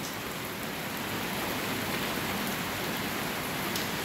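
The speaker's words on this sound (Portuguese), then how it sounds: "a chuva vai ficando mais pouca e mais leve, mais fraca" Light, weak rain falls steadily at the end of the rainy season in Guajará-Mirim, Rondônia, a constant even hiss of drops on surfaces with no voices.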